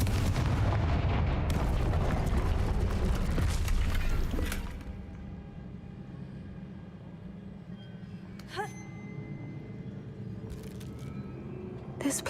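Confringo spell explosion in the video game Hogwarts Legacy: a loud, dense blast that fills the first few seconds, then fades into quieter ambience with a couple of sharp sparkling hits later.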